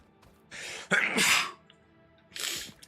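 A single loud, close sneeze with a sharp intake and explosive burst, followed moments later by a softer breathy exhale or second puff.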